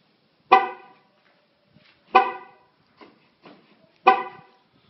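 A car's horn chirps as it is unlocked with a remote key: three short, sharp honks spaced a couple of seconds apart, with faint clicks between them and no talking.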